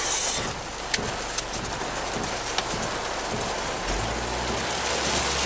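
Heavy rain drums on a car driving through a hailstorm near Love Valley, with a constant hiss and a few sharp, isolated impacts against the body over a low engine and road rumble, and no talk.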